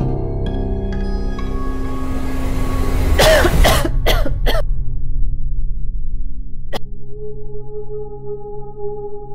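A person coughs several times in a quick close burst of harsh throaty sounds, followed by a single throat clearing, with a low hum before and quiet after.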